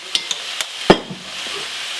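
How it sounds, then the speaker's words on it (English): Shepherd's pie filling with Worcestershire sauce is stirred in a hot pan, a few close spoon taps and scrapes over a steady sizzle. "Now let's stir that up"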